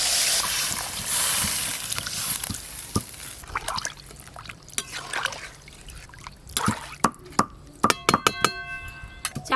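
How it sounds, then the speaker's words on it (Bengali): Water is poured into a pan of spiced potato and papaya curry, a trickling splash early on followed by scattered clinks and knocks of utensils, with a voice talking intermittently. "এবার জল দিয়ে দেব"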